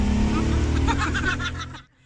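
A car engine labours in first gear on a very steep resort road near Davao City, a loud, steady low drone that holds strong, then drops away abruptly near the end, with a bit of voice mixed in.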